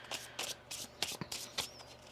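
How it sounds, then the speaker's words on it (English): Tarot cards are shuffled in a series of quick, crisp riffling bursts, about six in a steady rhythm, close and fairly quiet with no voices. "One more shuffle here."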